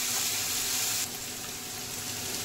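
Vegetables with capsicum fry lightly in a pan, giving a steady close hiss of sizzling that softens slightly partway through.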